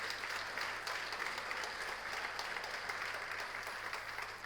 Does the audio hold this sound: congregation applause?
yes